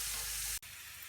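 Garlic tadka for khatti meethi moong dal sizzles and fries in a pan, a close, bright hiss that cuts off abruptly partway through and then continues more softly.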